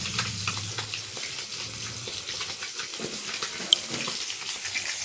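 Food fries in a pan with a steady, low sizzle and occasional stirring scrapes, faint and continuous, with one brief sharp tick near the end.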